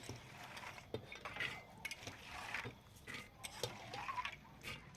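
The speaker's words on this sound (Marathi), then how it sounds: "थोडे थोडे करून मी सर्व चणे हे कुकरमध्ये टाकून घेत आहे" Soaked chickpeas being dropped little by little into a pressure cooker: faint, scattered clicks and light rattles of the chickpeas hitting metal, soft and irregular over a low background hum.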